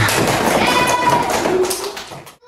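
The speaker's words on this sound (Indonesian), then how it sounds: "Yuk, udah semuanya, yuk tepuk tangan." A classroom of second graders breaks into group clapping after a math activity, a busy, continuous rattle of hand claps that holds steady and then tapers off sharply near the end.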